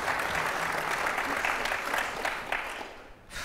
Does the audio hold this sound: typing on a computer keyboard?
no